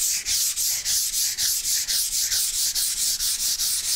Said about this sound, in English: you're going to sand